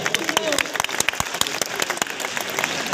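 Audience clapping at a Hindi kavi sammelan poetry gathering in Sheorinarayan, a dense, lively burst of many hands with sharp individual claps standing out, steady and close throughout.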